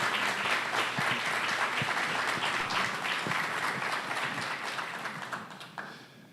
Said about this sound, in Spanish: eu peço uma salva de palmas para o nosso convidado